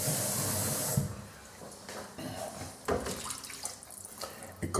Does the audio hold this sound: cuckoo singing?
no